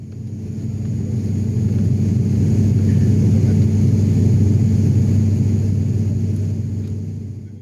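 Steady low droning rumble inside a passenger airplane cabin during a flight from Maumere to Labuan Bajo, loud and continuous for the whole stretch with no talking.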